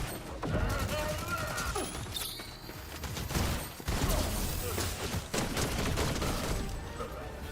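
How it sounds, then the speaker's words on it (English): Gunfire in the battle royale game Fortnite: a loud, dense barrage of rapid shots and impacts running throughout, with a voice speaking over the shooting. "Quit shooting me."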